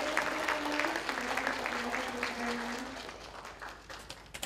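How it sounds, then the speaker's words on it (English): Audience applause after a presentation at the Okayama ESD Forum 2021 awards event, steady moderate clapping filling the hall for a few seconds with a faint voice tone over it. "Please give him a big applause."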